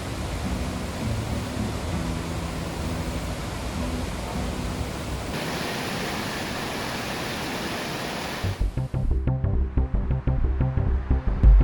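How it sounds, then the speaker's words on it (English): Rushing water of a waterfall near Minneapolis–St Paul, a steady broadband roar that fills the clip alone, shifting to a closer, choppier splashing in the final few seconds. "Take a listen to the sound of rushing water."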